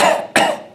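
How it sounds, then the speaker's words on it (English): Two short, dry coughs in quick succession, close and fairly loud, with no wet or rattling quality. "So it kind of sounds like this. That's a dry cough."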